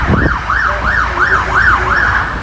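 An ambulance siren wails near a bridge over the River Thames, its rising-and-falling sweep repeating about six times in steady cycles, loud and close over a low road rumble.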